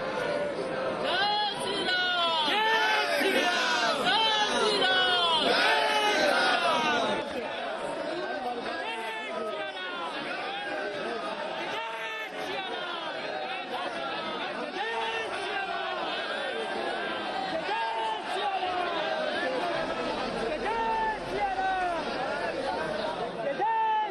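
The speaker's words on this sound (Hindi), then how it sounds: "हाँ, बहुत भीड़ है" A dense crowd of pilgrims at the Ram Mandir in Ayodhya makes a continuous roar of overlapping voices and chatter, loud and close, with many people talking at once throughout.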